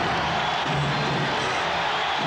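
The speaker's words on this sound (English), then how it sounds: "the crowd urging the Blazers on" A basketball arena crowd roars continuously in a 1992 Bulls vs Blazers game, a broad steady cheer with some whoops behind a commentator's voice.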